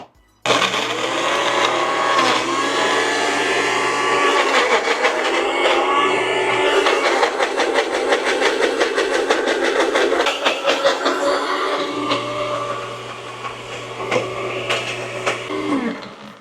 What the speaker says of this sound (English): We just want to blend those by themselves with a little bit of oil.